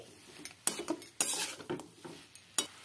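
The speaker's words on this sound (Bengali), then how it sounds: "লবণটাও সবজির সাথে মিশিয়ে নিচ্ছি" Chopped vegetables and salt for veg momo filling being tossed in a metal pan, a few distinct clanks and scraping strokes of a utensil against the pan over a quiet background.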